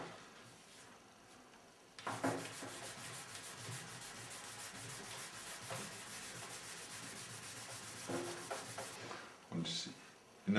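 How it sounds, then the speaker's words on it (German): Filler on car paintwork is wet-sanded by hand, giving a continuous close scratchy rubbing with rhythmic strokes that lasts most of the stretch, with a few knocks near the end. "In der Kante, da wird man dann wieder vorsichtig von Hand schleifen müssen."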